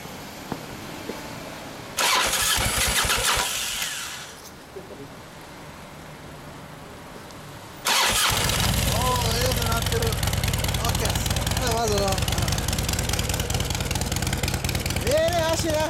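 A 1997 Harley-Davidson Dyna FXD Super Glide motorcycle engine fires up, cuts out briefly, then roars back into a loud, throbbing idle, with people talking near it.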